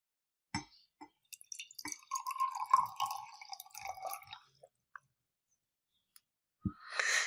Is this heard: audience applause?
no